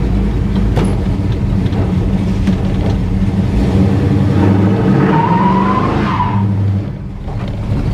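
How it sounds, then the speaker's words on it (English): Chevrolet Monte Carlo doing a burnout, a loud sustained engine roar with rising tire squeal as the wheels spin, easing off near the end. "there's good burnouts"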